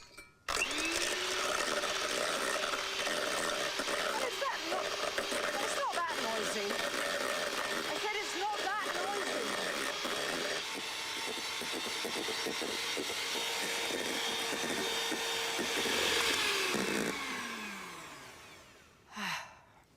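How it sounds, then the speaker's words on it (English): Egg whites being whisked toward firm peaks, likely with an electric mixer, giving a steady motor whir for most of the stretch with shifting tone as the foam thickens, fading out near the end. "now I'm going to rupture the calm by whisking the egg whites. I want them to get to firm peaks."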